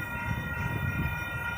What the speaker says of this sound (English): Oh, I do hear a horn. We got a train coming.